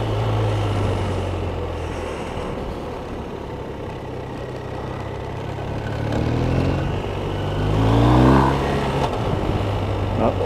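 A BMW R1250RS motorcycle engine pulls steadily, then revs rise and briefly dip through a quickshifter change from first to second gear, with continuous wind and road noise around it.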